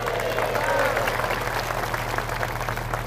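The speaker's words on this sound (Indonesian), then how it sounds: "Kalian enak aja tepuk tangan" Audience clapping at an Islamic boarding school gathering in Indonesia, a dense patter of hands under a steady low hum from the sound system.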